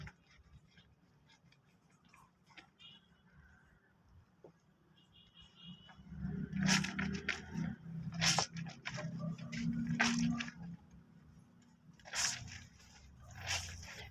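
Clothes are hand washed and rinsed in water with Tide detergent, making wet squishing, sloshing and splashing bursts up close after a quieter start.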